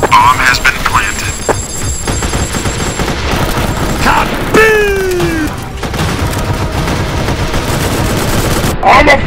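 Loud Roblox R2DA game audio: rapid gunfire and a sweeping laser blast, with bursts of shots throughout and a descending zap in the middle, over busy background noise.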